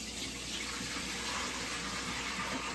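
Rinse water from a batch of ong choy pours through a strainer in a kitchen, a steady, close rushing splash that holds evenly without pause or speech.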